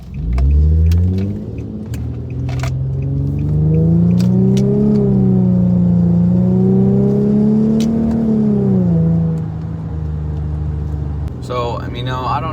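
An Infiniti G37 on Z1 Motorsports coilovers drives on a rainy road, its engine humming up and down through gears in a close, steady drone, with the low note climbing and falling as it accelerates, then settling.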